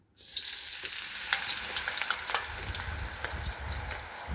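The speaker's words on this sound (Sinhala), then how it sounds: "වම්බොට් ටික දාගන්න. කනවා හොඳේ මේ වගේ ලස්සනට බැද ගන්න." Eggplant pieces fry in hot oil with a strong, continuous sizzle. It starts suddenly after a brief silence and keeps a bright, even crackle, with stirring noises mixed in.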